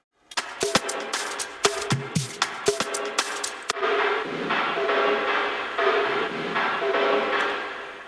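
Drum hits ring out with a long, washy reverb tail, then the beat gives way to a sustained airy hiss of echo that slowly fades.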